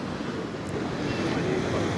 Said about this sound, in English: we've got the cob leading out in the S shape with the waves crashing at the side